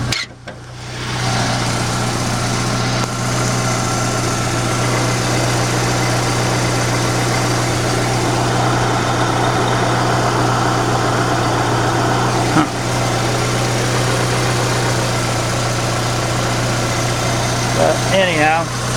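A 1984 Dodge Rampage's 2.2-litre fuel-injected four-cylinder idles steadily close by, a constant low hum with a faint mechanical rattle running unbroken throughout.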